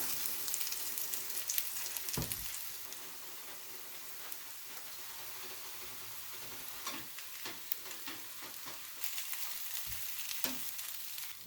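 Potato patties (pommes macaire) frying in oil in a pan make a steady, close hiss with scattered crackles and pops.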